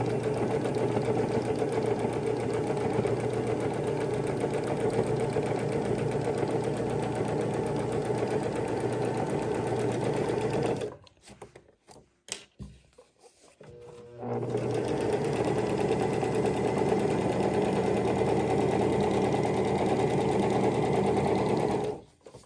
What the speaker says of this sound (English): Just a straight stitch down the longest side.